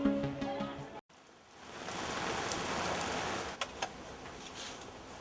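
Steady rain falls on a house construction site, a dense even hiss after a brief quiet gap, with a few faint knocks near the end.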